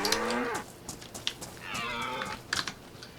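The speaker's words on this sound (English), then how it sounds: "It's a bull, but you should still get the same amount of meat from it." Bull or cow lowing in the DayZ survival game during hunting, a few drawn-out moos rising and falling across a short stretch with some game clatter around them.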